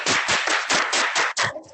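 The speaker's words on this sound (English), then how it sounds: "I'm going to clap over here." A single person clapping hands close to the microphone, a quick run of about eight loud, sharp claps in a steady rhythm, ending abruptly.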